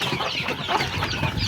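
Native chickens cluck and chatter close by in a continuous, lively flock, with no voices over the birds.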